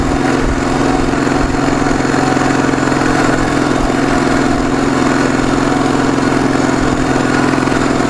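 A Ural motorcycle engine drones loud and steady while riding on a long mountain-ridge road, a continuous close rumble with rough, fluttering texture and no speech.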